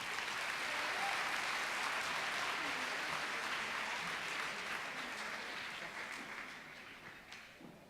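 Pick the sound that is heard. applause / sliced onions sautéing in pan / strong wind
applause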